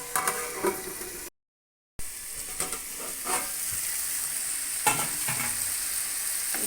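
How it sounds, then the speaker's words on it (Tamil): Pumpkin masala stir-fry in a pan, stirred with scraping strokes over a steady loud sizzle, broken by a short gap of silence before the frying and stirring resume. "இதை அப்படியே நல்லா கிளறி விட்டுட்டு இதில் அப்படியே மூடி வச்சிடலாம்."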